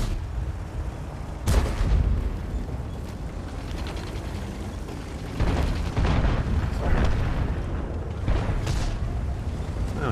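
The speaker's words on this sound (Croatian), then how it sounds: "Čisto da ispalim 2 granate." WZ 55 tank cannon in a tank video game firing shells, a couple of loud booming shots near the start and middle with a steady rumbling engine and battle noise underneath.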